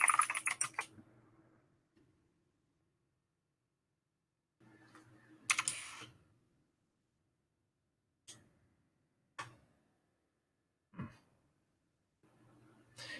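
Loud, very clicky computer keyboard typed in short bursts, sharp clustered keystrokes separated by pauses, close and clear with no talking.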